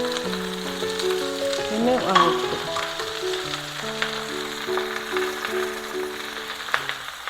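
Jackfruit pieces sizzle and crackle as they fry in a hot pan for a Kerala-style thoran, with soft stirring scrapes and a brief spoken word over the steady hiss.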